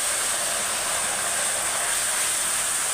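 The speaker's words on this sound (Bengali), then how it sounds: "দিয়ে একটু জল দিয়ে মশলাটা ভাজবো।" Spice masala fries in a pan after a little water and chili powder are added, giving a loud steady hiss and sizzle that holds evenly throughout with no voices.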